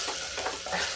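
Masala with fenugreek and curry leaves roasting in a pan, a close, steady sizzling hiss with soft stirring strokes throughout a short moment.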